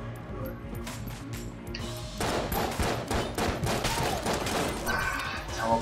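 Dense bursts of gunfire in the video game Enter the Gungeon, rapid shots piling into a busy, continuous barrage that grows heavier midway, with no talking over it.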